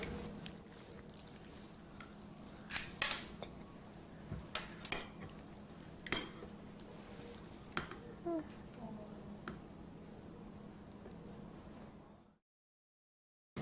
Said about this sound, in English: Now I'm going to scoop this onto the rice crackers